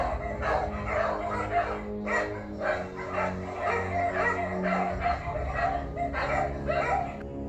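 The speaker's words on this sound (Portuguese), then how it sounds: "Notou que os cachorros dos sítios vizinhos estavam agitados e latindo muito." Dogs from neighboring rural farmsteads barking agitatedly, a steady run of sharp yips and barks with some whimpering, fairly close and continuous.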